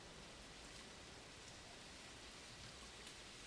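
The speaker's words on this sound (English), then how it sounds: "And there is the noise of the rain." Steady rain in an Unreal Engine video game, a soft and continuous hiss of falling water with no thunder or talk.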